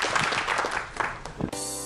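A seated audience gives a short burst of dense applause for speaker Lee Seung-gun, close and full, before it cuts off abruptly.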